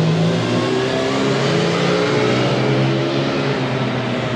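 A car engine on a London street revs hard and steady as it passes close by, a loud continuous roar filling the moment with no voices.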